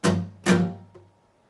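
Two guitar strums on muted strings, down then up, each a short bright chord that rings briefly and fades, followed by a faint muted tap.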